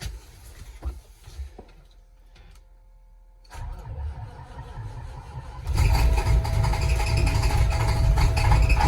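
An old farm vehicle engine with about 549,000 miles and 15,000 hours cranks with a rough, choppy starter whirr, pauses, then catches and settles into a loud, steady running rumble.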